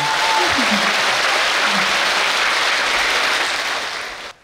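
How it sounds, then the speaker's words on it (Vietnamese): A big round of applause from a studio audience greeting a guest on a Vietnamese show, loud and steady throughout before cutting off abruptly at the end. "xin quý vị hãy cùng dành một tràng pháo tay thật lớn để chào đón nhân vật của chúng ta"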